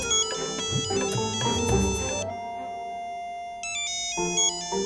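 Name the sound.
phone ringtone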